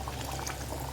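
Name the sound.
pouring tamarind juice into goat head curry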